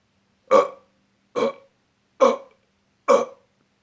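A voice imitates burping on a phone call: four throaty, evenly spaced burps, each short and fairly loud, with silence between them and no other talk.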